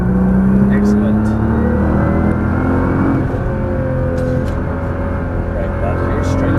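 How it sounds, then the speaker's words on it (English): A Nissan GT-R on the Las Vegas Motor Speedway track drones loudly at full throttle, a dense, steady engine roar with slowly rising pitch heard from inside the car, with a voice speaking over it. "Now squeeze the throttle."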